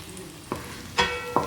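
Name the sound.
onions and green chillies sautéing in a pan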